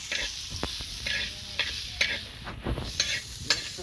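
A spiced vegetable dish is stirred in a hot pan, a spoon scraping in regular strokes about every half second over a constant sizzle, close and clear with no voices.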